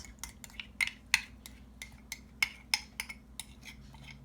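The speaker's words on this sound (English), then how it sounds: "And I'm going to stir that all up." Barbecue sauce mixed with honey being stirred in a bowl, a quick run of light spoon clinks and taps against the side, close and clear with no talking.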